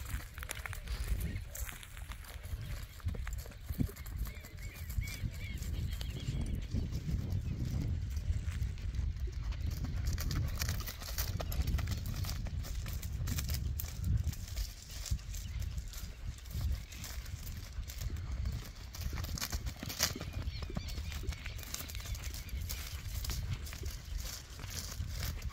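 A bay horse worked in a round pen, its hooves clip-clopping steadily on the ground, with continuous rustling and crunching of footing and faint outdoor ambience for the whole stretch.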